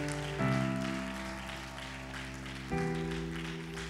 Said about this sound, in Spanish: Dele palmas fuerte al Señor